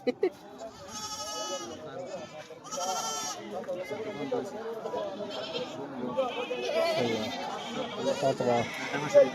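Black Bengal goats bleat repeatedly at a busy livestock market, several calls rising over a constant crowd of bargaining voices and background chatter.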